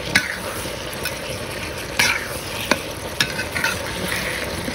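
Dried fish (bulad) sizzles steadily in a frying pan while being stirred, with several sharp scraping clinks of a utensil against the pan over the continuous frying hiss, close and clear, no talking.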